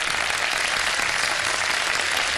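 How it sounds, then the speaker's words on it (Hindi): A studio audience at a live Ramadan iftar television show applauds in a dense, steady wash of clapping that carries evenly from start to finish with no voices standing out. "तालियां बजा दे जी।"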